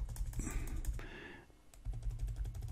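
Keys clatter in quick bursts on a computer keyboard while contact details are entered into an affiliate marketing email, a close, soft run of taps with a brief pause midway.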